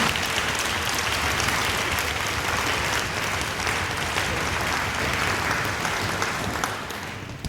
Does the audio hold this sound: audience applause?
yes